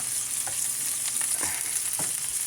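Wild edible greens fry in bacon grease in a pan, a constant bright sizzle joined by a few soft spatula scrapes and pokes.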